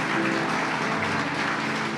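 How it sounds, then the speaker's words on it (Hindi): Church congregation giving a round of applause, a broad, steady wash of many hands clapping at moderate volume for the full two seconds. "जोरदार तालियां दीजिए परमेश्वर को।"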